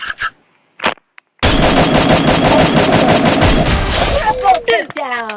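Rapid automatic gunfire from a first-person shooter video game bursts out loudly for several seconds, preceded by a couple of brief clicks and trailing into shorter shots.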